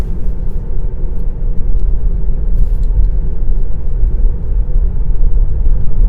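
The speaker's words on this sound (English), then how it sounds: "Autopilot took us right through that intersection with the lead car because the light was green." Tesla Model Y or Model 3 on Autopilot rolling through a green-light intersection behind a lead car, heard as a steady low road and cabin rumble, fairly loud and constant, with no talking.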